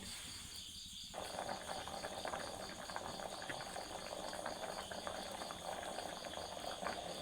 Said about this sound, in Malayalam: മുരിങ്ങയിലയും പരിപ്പും നല്ലപോലെ തിളച്ച് വന്നിട്ടുണ്ട്.